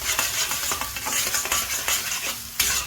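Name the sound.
garlic ginger paste frying with onions in pan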